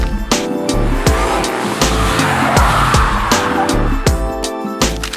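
A Toyota GR Yaris launches hard with a loud, rough engine roar and squealing tires, the sound dense and continuous with sharp repeated bursts throughout.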